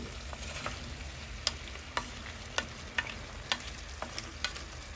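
Pangas fish with radish and radish greens fries in a pan, giving a steady soft sizzle broken by light scraping stirs and clicks at irregular intervals, with no talking.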